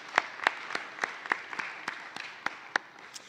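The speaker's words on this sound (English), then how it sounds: "So can we give them a round of applause?" An audience at a nursing graduation and awards ceremony applauds for the nursing department staff, sparse separate claps spaced about every quarter second, fairly faint and thin as if from a scattered crowd in a large hall.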